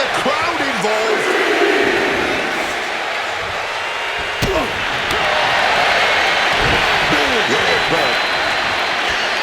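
A large arena crowd cheers and roars in WWE 2K26 wrestling during a women's match featuring Lynch and Rhea, a steady wash of crowd noise throughout with a sharp slam-like impact midway and commentary voices over it.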